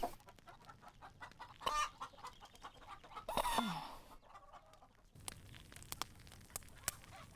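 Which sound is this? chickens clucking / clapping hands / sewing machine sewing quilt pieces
chickens clucking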